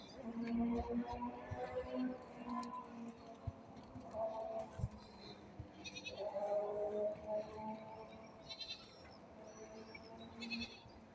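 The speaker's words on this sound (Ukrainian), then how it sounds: "два старых козла воняют" Two old goats bleat repeatedly outdoors, wavering nasal cries close by, overlapping one another in an irregular stream with faint background noise and no talk.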